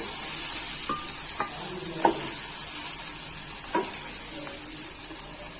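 Ridge gourd pieces sizzle softly in a pan while a utensil stirs them, with a few light scrapes and taps against the pan over a steady frying hiss.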